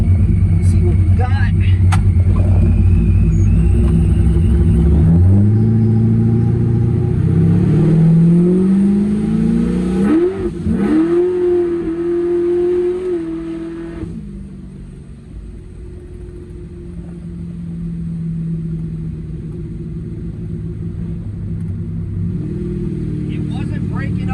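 A boosted small-block Chevy V8 in an S10 truck idles with a deep rumble, then is revved hard in a rising sweep before falling back to a loud, lumpy idle, close by.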